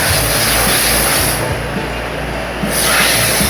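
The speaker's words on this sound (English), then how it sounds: "the thing which is spraying is a degreaser." A loud, steady hiss of degreaser spraying onto a car engine bay fills the clip close by, briefly easing midway before resuming at full strength.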